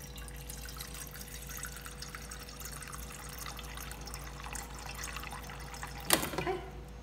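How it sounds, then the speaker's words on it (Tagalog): Water runs steadily from a tap into a container at home, a continuous soft splashing flow that ends with a brief louder clatter near the end. "dito ako kumukuha ng tubig"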